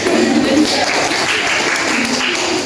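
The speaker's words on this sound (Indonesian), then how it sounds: "Okay, give applause" Classroom applause for a student group, a steady wash of many hands clapping that fills the whole stretch at even loudness, with no voices standing out.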